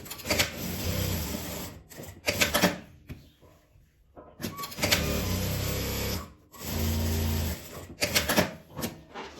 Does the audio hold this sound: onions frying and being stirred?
no